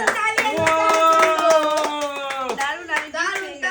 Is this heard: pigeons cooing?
no